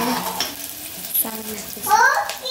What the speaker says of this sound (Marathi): कांदा आणि हिरव्या मिरच्या टाकला तेलामध्ये. छान परतून घ्यायचा.